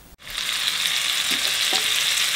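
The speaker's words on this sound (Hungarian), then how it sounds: "Beleraktam a vajat, és mindjárt teszek egy kis olajat is hozzá, hogy ne égjen meg a vaj" Butter melts in a hot pan with a sudden loud, broad sizzle that bursts in after a short quiet moment and holds steady and close to the end, with a couple of faint knocks underneath.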